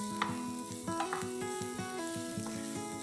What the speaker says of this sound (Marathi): चांगला गुलाबी होईपर्यंत फ्राय करून घ्यायचा आहे आपल्याला